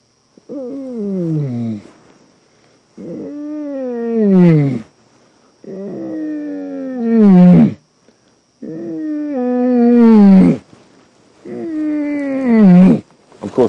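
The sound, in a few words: person imitating a lion's roar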